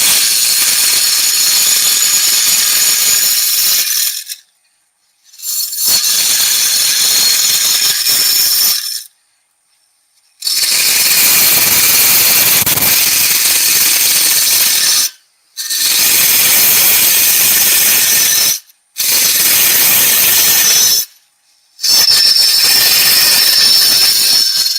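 Wood lathe turning a vase, with a chisel held far up the tool rest and vibrating against the spinning wood: loud, steady broadband whirring and chattering in several long bursts separated by short silences, no talk.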